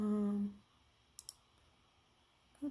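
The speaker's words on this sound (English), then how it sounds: "So I'm going to click it" Computer mouse clicked twice in quick succession, small sharp faint clicks close by, following a brief stretch of talking and before speech resumes.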